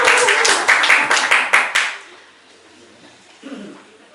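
A poetry-reading audience claps in a burst of sharp, close handclaps with a few louder individual smacks, fading out after about two seconds into near quiet with faint murmuring.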